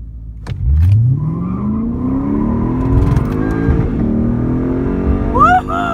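A new Chevrolet Camaro ZL1 launches down a drag strip, its engine revving upward in a loud rising roar with gear changes, passing close and fading slightly toward the end.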